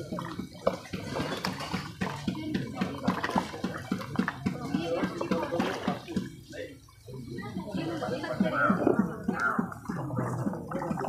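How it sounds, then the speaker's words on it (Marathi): Goat mutton offal, fat and tripe, being washed by hand in water, with repeated sloshing and splashing that continues under nearly constant talk. "2-3 पाण्यामध्ये तिला धुवून घ्यायचं"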